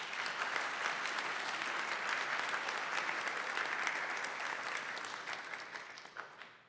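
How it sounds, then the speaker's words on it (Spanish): An audience at a public health and social security forum applauds a speaker, a full, steady wash of clapping at moderate distance that thins and fades out near the end. "Un fuerte aplauso para él, por favor."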